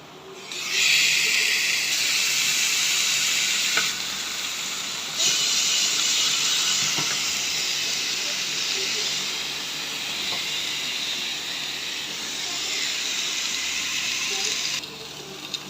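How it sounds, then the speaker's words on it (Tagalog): Pork sizzling loudly in a hot Nutri Clad titanium frying pan: a steady, bright hiss that starts abruptly and continues throughout, shifting slightly in intensity, with no talking. "Ayan, lagyan natin itong karne."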